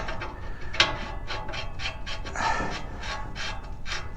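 Ratchet wrench tightening the blade nut on a Land Pride RCR1872 rotary cutter, a run of quick, evenly spaced clicking strokes, close and fairly faint, with no talking.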